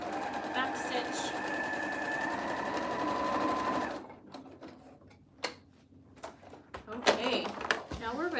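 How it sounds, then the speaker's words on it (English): A sewing machine stitches a dart on a fabric surgical scrub cap, running in a steady fast whir for about four seconds before stopping, followed by scattered clicks and handling noises. "I'm gonna sew this one again. So this is our last dart."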